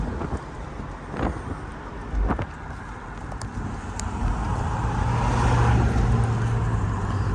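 A 1995 Jaguar XJS Convertible on the road, its engine a low steady hum under rushing wind and road noise, building louder toward the end with a few faint knocks.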